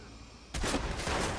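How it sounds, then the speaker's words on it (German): Gunfire in the Watch Dogs video game erupts suddenly after a quiet moment, a dense burst of several rapid shots that fills the rest of the short clip. "Schüsse!"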